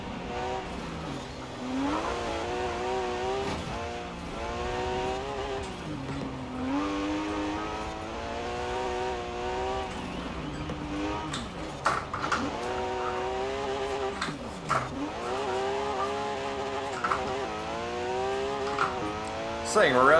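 Group B rally car engine in Forza Horizon 4 revving hard and rising through gears with quick drops at shifts and handbrake moments, loud and continuous, with game sound effects underneath.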